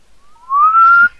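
One short, loud whistle in Call of Cthulhu: Dark Corners of the Earth rises smoothly in pitch and holds briefly, close and clear against near silence.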